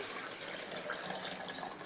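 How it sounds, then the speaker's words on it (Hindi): Water pours steadily into a jug while a phalsa drink is prepared in a home kitchen, a continuous soft splashing hiss with no break. "ये इसमें हम पानी डाल रहे हैं"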